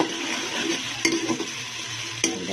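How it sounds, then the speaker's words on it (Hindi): Onions fry in a pan for a pulao, a steady close sizzle with a few sharp scraping stirs of a spoon against the pan. "प्याजों को अच्छी तरह ब्राउन करेंगे।"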